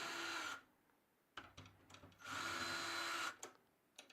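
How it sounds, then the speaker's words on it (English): A cordless power drill drives snare drum tension rods down toward the rim in two bursts of steady whirring about a second long, separated by quieter clicks and handling sounds. "Now I drill these down right before they hit the rim."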